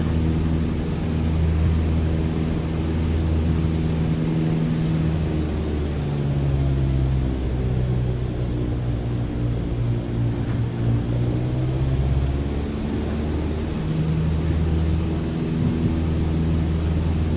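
Steady propeller aircraft engine drone in Microsoft Flight Simulator 2020 as power is added for a go-around, a continuous loud hum with shifting tonal bands, alone without talk.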